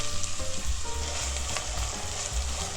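Diced onions with whole spices fry in hot oil for keema matar, giving a steady, close crackling sizzle with small pops throughout and no talking.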